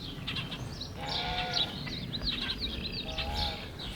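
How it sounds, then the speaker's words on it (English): Pastured sheep lying in tall grass give several wavering bleats, a few overlapping calls at moderate distance over a soft outdoor background, with no talking. "all of our sheep are contentedly lying about"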